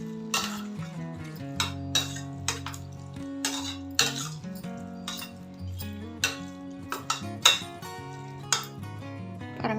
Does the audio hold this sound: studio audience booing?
no